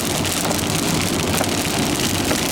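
Heavy rain drums steadily on a car while driving along Hindmarsh Drive, a dense, continuous hiss of droplets with faint road noise underneath, no voices.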